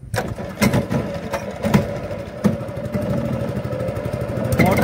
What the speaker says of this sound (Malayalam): തോണി മോട്ടറാ, മോട്ടർ സ്റ്റാർട്ടാക്കുന്നേ.